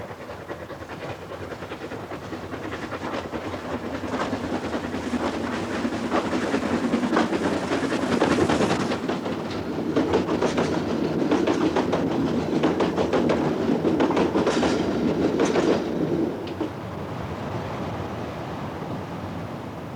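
A steam train on the Isle of Man runs past with a steady rumbling, clattering rhythm that swells in the middle and then eases off, heard alone without voices.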